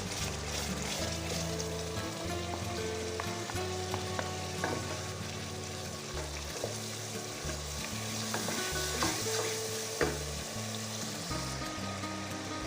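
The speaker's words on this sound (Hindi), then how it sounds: "मसाला जो है हमने अच्छी तरीके से भूनना है" Chana masala with whisked yogurt sizzles and fries steadily in a pan while a spoon stirs it, with a constant close crackle and scraping that runs unbroken throughout.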